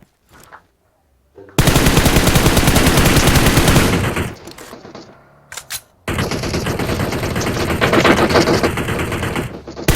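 Heavy automatic gunfire from a shooter video game, long loud sustained bursts with a short lull between them, close and dominant, with rapid clattering shots.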